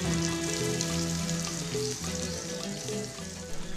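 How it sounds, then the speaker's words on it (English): Breaded bites deep-fry in hot oil, a dense, steady sizzle and bubbling that fills the clip up close without pause. "Now send them into the fryer."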